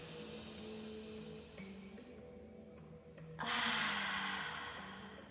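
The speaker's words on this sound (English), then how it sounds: "Inhale, nose. Exhale, mouth." Dramatic breathing, a long audible inhale through the nose followed by a loud, rushing exhale through the mouth, close and alone, during a lockdown breathing exercise.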